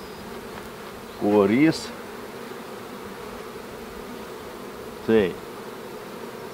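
Honey bees from a drone-laying colony buzz close by in two short, rising whines, one longer and one brief, over a quiet background while a person speaks briefly.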